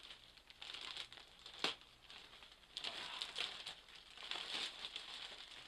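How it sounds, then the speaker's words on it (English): Plastic packaging around a Bugera T50 Infinium guitar amplifier is torn and crinkled open by hand, with quiet, uneven rustling and crackling bursts close to the microphone. "it's plastic, I'll just rip it open like an animal"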